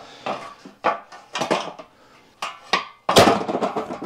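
Metal channel piece of a Husky 52-inch variable-height workbench being set into place, giving a run of sharp clanks and knocks at close range, irregular and separated by short pauses, with a heavier clattering burst near the end.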